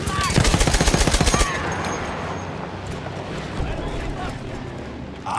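Rapid, loud machine gun bursts fire in the Battlefield 1 video game, a fast rhythmic stutter lasting over a second before fading into rumbling battlefield noise.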